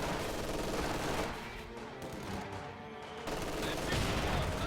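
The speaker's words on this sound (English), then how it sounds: "MG42 firing on some conscripts." An MG42 machine gun fires on infantry in a WWII real-time strategy game, heard as dense sustained gunfire bursts amid loud battle noise that dips briefly in the middle before swelling again.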